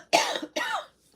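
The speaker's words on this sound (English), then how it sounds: "See, there's a cough that snuck up on me." A man's two harsh coughs in quick succession, close and loud, with a short quiet tail after them.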